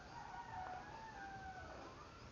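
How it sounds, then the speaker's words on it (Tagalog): Rooster crows over clucking chickens inside a coop in rural Gasan, Marinduque, a faint, continuous farmyard bed of fowl calls with a drawn-out crow rising and falling. "kulungan ng manok. Dami manok guys dyan"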